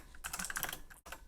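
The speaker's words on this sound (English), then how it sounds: "So if I start typing hi" Rapid keystrokes on a computer keyboard while entering a short greeting into a chat field on a Shopify store setup, a dense burst of clicks with a brief pause near the end, close and fairly quiet.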